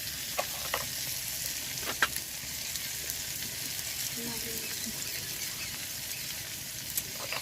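Garlic sizzles and fries steadily in hot oil in a pan while a lauki and prawn curry is being cooked, with occasional stirring clicks and brief speech.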